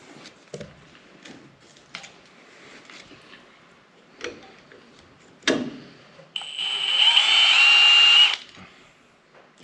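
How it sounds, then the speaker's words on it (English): A power drill bores all the way through a part on a truck in a shop, a loud steady whine lasting about two seconds after scattered clanks and handling noises. "Just drill one all the way through and all."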